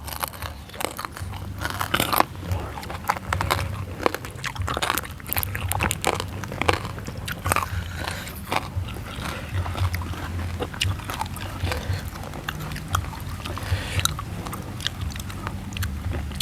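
Crispy fried pork belly being bitten and chewed up close, with steady crunching and smacking running throughout alongside faint background noise.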